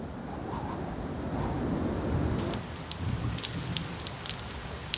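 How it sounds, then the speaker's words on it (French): Rain falls steadily in high Arabian mountains, a soft continuous hiss that grows denser before scattered close drops patter and tick on nearby surfaces. "Les premières gouttes de pluie apportent instantanément un peu de répit"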